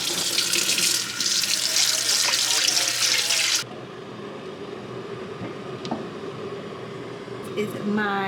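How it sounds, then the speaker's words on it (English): Warm water pours from a tap into small prep bowls holding baking soda in a home kitchen, a loud steady splashing stream for a few seconds that stops abruptly, leaving quiet room noise with small clinks. "I'm gonna put a tiny bit of warm water to start."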